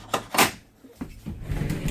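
Spring-loaded latch on a pocket door in an RV trailer's rear bathroom, a few sharp clicks and clacks close by as the door is worked, with a light knock near the end.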